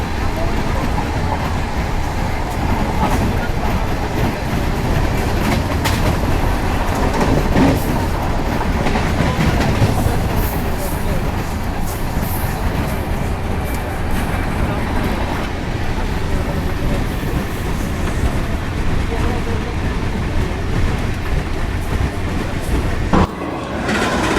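Brindavan Express passenger train hauled by a locomotive, running at high speed between Bengaluru and Chennai; a steady, loud rumble of wheels and carriages with clickety-clack rail rhythm continues throughout, heard from on board, with faint voices underneath.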